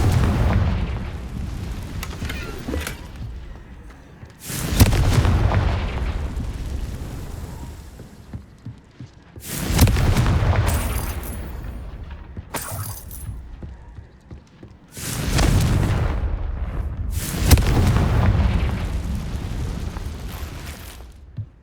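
Confringo explosive spell in the video game Hogwarts Legacy, four or five heavy booming blasts a few seconds apart, each with a loud attack and a rumbling tail fading into quieter ambience.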